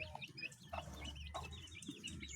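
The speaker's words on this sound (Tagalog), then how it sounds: "Yan, ating mga manok." Chickens in a small backyard coop cluck softly now and then over a steady low background hum, with a few faint chirps mixed in.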